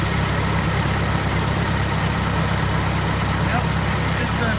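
A 1941 engine with an oil filter canister and generator charging system idles in a quiet room, giving a loud, even, continuous low purr with no variation over several seconds.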